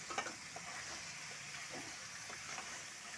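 Spices with chilli powder are sautéed in a pan, producing a faint, even sizzle and hiss with a few soft stirring scrapes, heard quietly and without talk.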